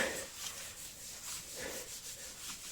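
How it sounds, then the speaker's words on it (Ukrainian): A rhythmic scrubbing, rubbing noise with repeated bristly strokes, steady and fairly close, from a brush attachment on a reciprocating saw scrubbing tile grout. "Ось, будь ласка, шабельну пилу, щіточку і погнали."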